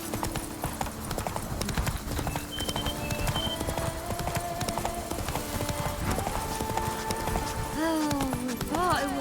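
Horse hooves clip-clop steadily in The Witcher 3 video game, a continuous trotting rhythm close by, running under a man's spoken dialogue and brief whinny-like calls near the end.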